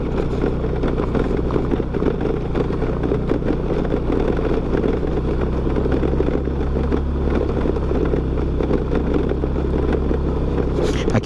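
A small motor scooter with smooth street tyres ridden up a dry, slippery red-dirt country road, its engine droning steadily and close with constant rumble and road noise throughout.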